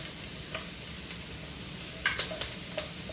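Onion and other vegetables sweating in a pan give a soft, steady sizzle, broken by a few light clicks and stirring scrapes. The sound is quiet and close, with no talk.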